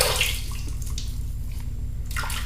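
Water runs from a tap to rinse off Saponificio Varesino Felce Aromatica shaving soap after a shave with a Gillette double-edge razor, a soft steady stream with faint splashes and drips and no talking.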